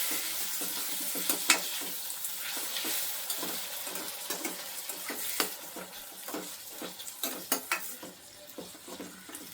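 Tomato cooking in a pan for jeera pepper chitranna sizzles and fries steadily, with frequent scrapes and clinks of a spoon stirring against the pan, close and continuous.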